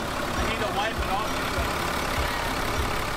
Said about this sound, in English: turned the engine on to check for leaks